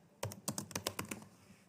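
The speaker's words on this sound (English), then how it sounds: "type any name, then type some code" Computer keyboard keys tapped while writing Python code in an editor: a quick run of about eight to ten crisp, close keystrokes in a steady rhythm, then quiet.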